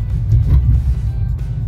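Road traffic on a Chennai street slowed by metro construction work and diversions, a steady low rumble of car engines close by, continuous with slight swells of passing vehicles and no talk.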